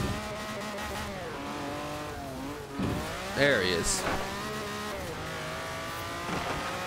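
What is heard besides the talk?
race cars accelerating in the video game Forza Horizon 4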